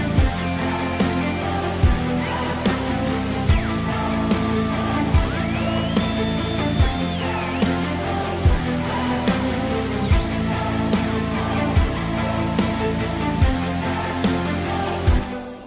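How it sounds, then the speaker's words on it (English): A synthesizer part plays in Cubase over a steady beat, with gliding and stepping lead notes riding above driving rhythmic hits. It stays loud and continuous throughout, with no speech. "I want to show you like a synth, for example."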